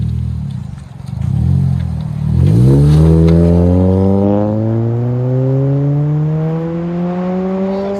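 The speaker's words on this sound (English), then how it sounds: "Chevy Cobalt 2009 HKS muffler, made in Japan." A 2009 Chevy Cobalt 2.2L engine with an HKS muffler revs up from idle with a deep, smooth exhaust note that climbs steadily and then holds a steady high drone, close and loud.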